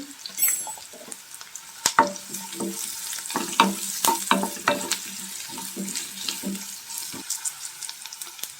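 Onions fry in a pan with a soft, steady sizzle, broken by several sharp scraping and clinking stir strokes, close by and with no talk.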